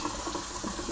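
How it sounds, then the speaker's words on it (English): Cold tap water runs steadily over thin cooked noodles in a kitchen sink, a short continuous splashing rush at moderate volume with no pauses. "So what I'm doing now is just running, ouch, cold water over them."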